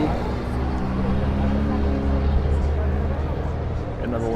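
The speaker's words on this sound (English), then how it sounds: "Another Lambo coming through, so pretty cool." At a summer evening car cruise, a Lamborghini Aventador SVJ rolls by with a low, throbbing engine drone that rises briefly as it passes, while someone talks over it.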